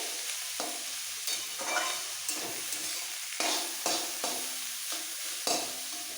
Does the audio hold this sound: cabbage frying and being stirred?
yes